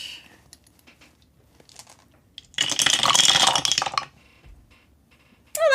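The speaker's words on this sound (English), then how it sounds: "the dice do sound satisfied" Dice rattle and clatter across a surface during a tabletop game, a dense bright burst of about a second and a half, close and clear, with quiet clicks and faint sounds around it.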